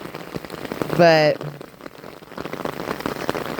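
Heavy rain from a wet spring thunderstorm patters steadily on surfaces outdoors, a continuous hiss with a brief voice cutting in near the start.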